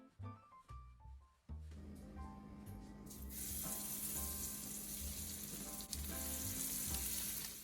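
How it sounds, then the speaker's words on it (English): Breaded pork chops dropped into hot oil for keto frying, a brief clatter followed by a loud, steady, close sizzle that holds for several seconds. "we're just going to add the breaded pork chop to the oil."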